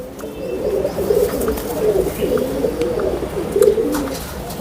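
Pigeons coo in a low, rolling, continuous murmur, the birds being Indian-type fancy pigeons kept for their feathers; the warbling calls overlap steadily, close and moderately loud, with faint chirps above.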